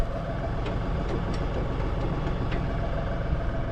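A tractor engine idling on a small cattle farm, heard as a steady low rumble with a moderate, continuous drone and a few faint clicks or knocks in the background, without any talking.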